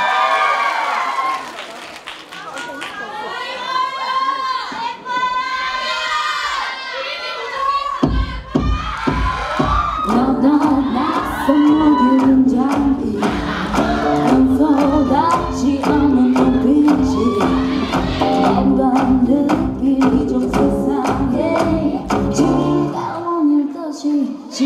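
A university campus crowd at a televised K-pop group visit claps and cheers for the last song, loud, dense applause with shouts and screams filling the whole stretch, voices rising over the noise.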